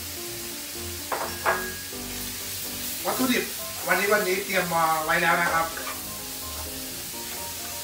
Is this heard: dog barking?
no